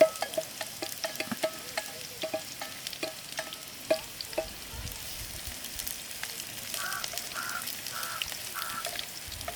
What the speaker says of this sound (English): Adding in my onions